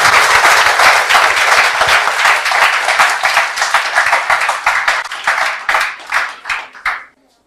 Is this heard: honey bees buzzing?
no